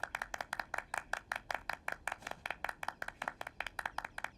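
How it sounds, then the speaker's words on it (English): Group of people clapping in a cartoon scene, a steady run of sharp, evenly spaced hand claps repeating quickly and close by without any talking. "clap like you mean it!"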